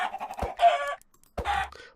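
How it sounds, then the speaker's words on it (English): Vanilla chickens in Minecraft Sky Factory 3 give several short, close clucks in quick succession, a pause, then another clucking burst. "I got all these vanilla chickens."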